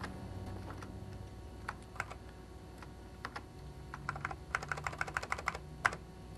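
Someone types on an Apple computer keyboard, pressing the Open Apple and arrow keys, giving soft irregular clicks that get quicker and firmer toward the end, heard close and quiet with no one speaking.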